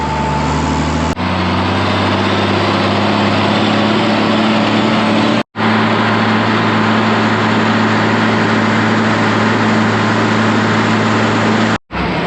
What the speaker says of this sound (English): That was young Jack hooking on to that other bale wagon, the 4050.